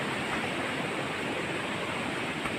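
A flooded river in hilly country rushes in a dense, loud, unbroken roar of churning water, steady throughout with no voices.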